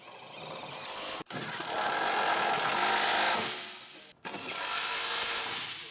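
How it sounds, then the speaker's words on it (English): An electric impact wrench with an 18mm deep socket tightens skid plate bolts on a Jeep Wrangler JK, giving loud, close buzzing hammering bursts separated by two brief pauses between bolts. "Using the 18mm deep socket with the electric impact wrench, tighten the skid plate bolts"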